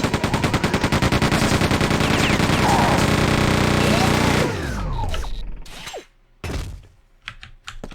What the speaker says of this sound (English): And I think we'll show it our chain gun.